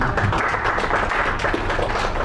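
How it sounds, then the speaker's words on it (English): A crowd applauds, with dense hand clapping that holds steady throughout without a break. "Let's give a hand clap."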